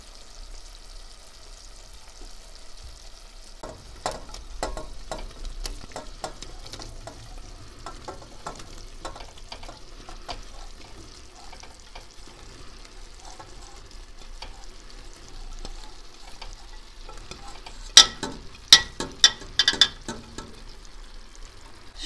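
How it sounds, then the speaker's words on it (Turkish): Chopped tomatoes and onions fry in a pot with a quiet, steady sizzle, broken by scattered clinks and scrapes of stirring and a brief cluster of sharper knocks near the end. "Evet, domateslerimizi doğradık. Şimdi soğanlarla buluşturacağız."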